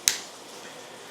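A screw snapping loose from the rear cover of an OS FS-20 model engine gives one sharp, bright click that quickly fades into a quiet room.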